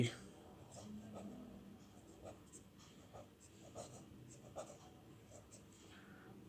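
A pen or chalk writes out a lesson heading, making faint, irregular scratchy strokes close by in a quiet room, with soft breathing and a few brief vocal sounds.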